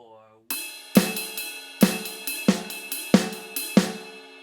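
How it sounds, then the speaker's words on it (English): Funk drum groove, a crisp snare backbeat over a steady ride cymbal pattern, played alone and close with sharp repeated hits and shimmering cymbal wash. "When you put the snare and the ride cymbal part together, it sounds like this."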